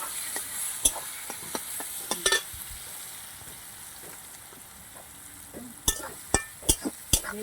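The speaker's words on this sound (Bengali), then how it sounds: "মূলাটা আমি লাল লাল করে একদম ভেজে নিচ্ছি।" Radish frying in oil alongside a large bhola fish, a faint sizzle running under scattered sharp spatula clicks and scrapes, with a cluster of louder taps near the end.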